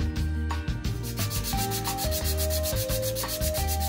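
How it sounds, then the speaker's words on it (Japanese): A wooden lipless crankbait lure body is sanded by hand with 180-grit sandpaper: steady, close, rasping back-and-forth rubbing that continues without pause. "残った不要部分は180番のサンドペーパーでサンディングして削っていきます。"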